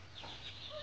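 A small chicken clucks softly nearby, a brief, low murmuring call lasting under a second with faint background hum.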